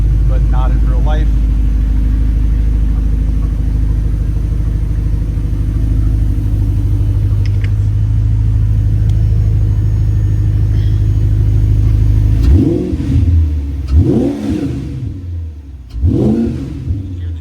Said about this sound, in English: You hear the intakes really sucking